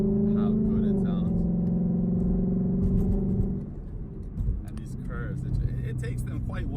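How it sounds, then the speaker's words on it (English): Cabin view of a 2017 Ford Mustang GT, its engine a deep steady rumble that drops in pitch and eases off partway through, with a few clicks and knocks on top. "I'm pretty sure you guys can tell from the inside of this car how good it sounds."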